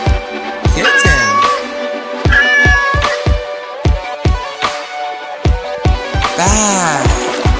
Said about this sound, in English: Kitten, kitten, kitten, kitten, kitten,